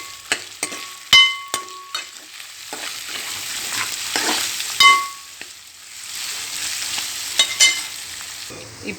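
Turmeric being stirred into kaddi fish frying in a pan: a steady sizzle runs throughout, broken by sharp metallic scrapes and clinks of the spoon against the pan, several louder knocks near the start and again midway.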